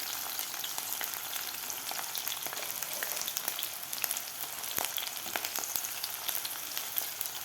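Garlic fries in a pan with a faint, steady crackling sizzle, dotted with small pops and spits throughout and no talking.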